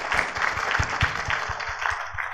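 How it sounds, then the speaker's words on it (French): Applause from an audience in a hall at the grand final of the Champion des Mots contest, moderate and steady with scattered individual claps over about two seconds, no voices. "que je vous demanderai d'applaudir, s'il vous plaît"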